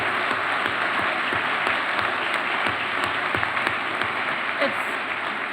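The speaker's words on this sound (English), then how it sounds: "how about a big round of applause for Piers Morgan?" An audience at a Piers Morgan talk breaks into steady, sustained applause, many hands clapping at even loudness, with faint voices underneath.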